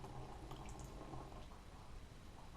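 Water runs freely from the bite valve of an AOTU hydration pack drinking system, a faint close trickle and dripping with no speech.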